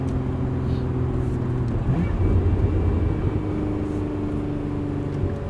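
Interior of a 2024 Lotus Emira with a six-speed manual, its engine whistle rising as a steady tonal whine over a low droning rumble, with a brief shift in pitch midway, continuous and close.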